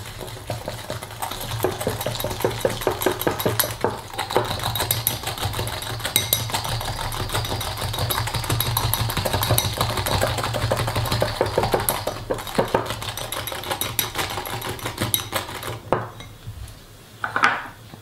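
Egg yolks and sugar are whisked in a small bowl, a rapid continuous rattle of whisk against the bowl that runs steadily for a long stretch, close and fairly loud, then slows and stops near the end.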